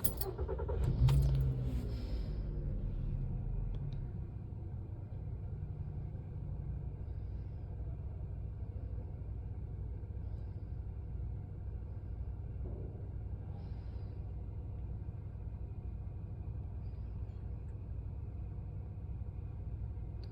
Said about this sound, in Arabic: ونجرب تشغيل السيارة